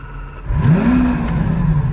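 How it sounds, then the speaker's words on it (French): A Lamborghini V12 engine starts up nearby, cranking into a loud rising roar that settles into a strong, steady idle, with no voices over it. "tu vas entendre ce que c'est un vrai moteur qui démarre. Ça s'appelle un V12 et la marque c'est Lamborghini"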